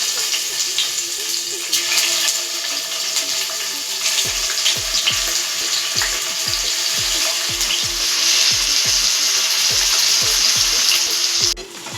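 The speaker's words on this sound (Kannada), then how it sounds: "ಇದು ಸ್ವಲ್ಪ ಗೋಲ್ಡಿಶ್ ಆಗೋವರೆಗೂ ಇದನ್ನು ಫ್ರೈ ಮಾಡ್ಕೊಳ್ಳಿ" Paneer pieces fry in oil in a pan on the stove, a loud continuous sizzle with a run of regular clacks from stirring partway through.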